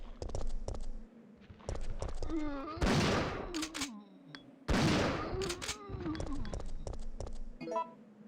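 Shotgun blasts in a retro video game, two loud broadband bursts a couple of seconds apart amid quieter clicky game effects and short beeps, with sparse tonal chirps between shots.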